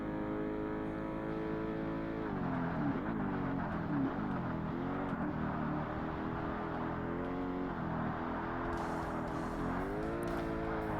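An American muscle car in the Forza Motorsport racing game roars loudly through the gears, with the engine pitch climbing and dropping as it shifts and revs, and a brief tire squeal near the end.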